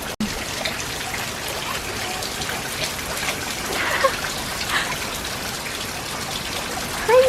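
Heavy rain pours in Charleston with water trickling and splashing close by, a steady broadband wash with occasional louder gushes and no talking.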